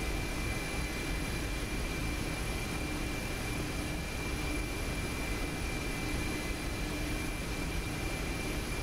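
A Mi-8 helicopter in the flight simulator DCS, climbing near 4,200 meters with its main rotor RPM drooping slightly, gives off a constant loud, dense roar of engines and rotor, with no break.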